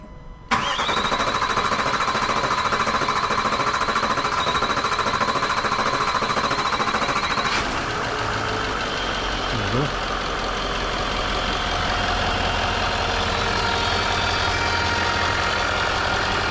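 A Range Rover L405 engine cranks and catches after EGR valve and cooler work, then settles into a steady idle with a whining tone early on, heard close in a workshop with some talk nearby.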